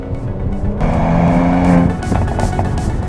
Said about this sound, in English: the cracks and the pops and the personality that you get on the gear change